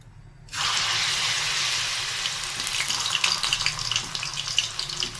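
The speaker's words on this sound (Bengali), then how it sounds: "রিফাইন দিয়ে দিলাম রিফাইন দিয়ে ভাজবো" Broccoli pakoras coated in rice flour batter dropped into hot refined oil, bursting into a sudden loud sizzle that keeps crackling and bubbling steadily close by.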